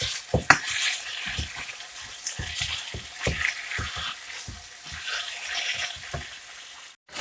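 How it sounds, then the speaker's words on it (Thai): Steady sizzling of pork stir-frying with garlic in a hot pan, with irregular scraping and stirring clatters throughout, close and fairly quiet. "แล้วก็ใส่หมูลงไปพัด ให้เข้ากันดีนะจ๊ะ"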